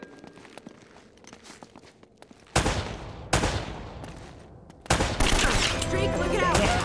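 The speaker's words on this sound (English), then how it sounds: "They're shooting at you too, you know." Enemies fire guns in the video game Uncharted: Drake's Fortune: sharp, loud gunshot bursts cut in at intervals, followed by sustained rattling gunfire over scattered footsteps and faint game noise.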